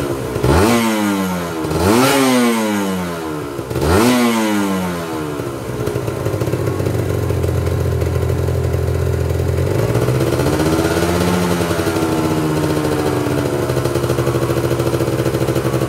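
Motorcycle engine with a leaking exhaust, revved hard three times in quick succession, then held at a steady high-rpm roar that shifts pitch near the end; loud, close and without talk.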